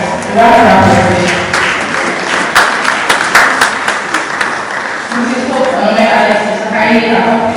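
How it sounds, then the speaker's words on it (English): A business summit audience claps for a speaker being introduced, a bright burst of applause in the middle with a voice talking before and after it. "Round of applause."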